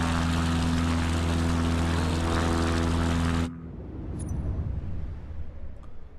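A propeller airplane engine in the DisastAir game drones loudly and steadily, then cuts off abruptly partway through, leaving faint rushing air and a couple of small clicks.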